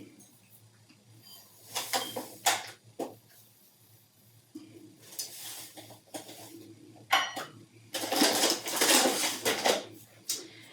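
Two cups of sugar pour into a mixing bowl in grainy, hissing bursts, with light clinks of bowls and utensils between them; the longest, loudest pour comes near the end, and nobody talks.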